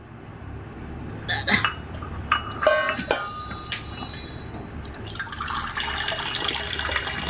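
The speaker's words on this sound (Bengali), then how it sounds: "দে আমি 2 কাপ চা জল মেপে দিই" Water measured and poured for two cups of tea, heard as close splashing and running water with a few metallic clinks of a vessel, building into a steady pour toward the end, with no talk.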